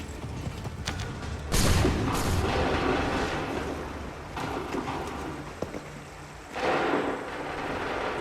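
Cannon and musket volleys in a battle from Assassin's Creed III, heavy booming bursts rolling over a constant din of gunfire and battlefield noise, with loud surges near the start and end.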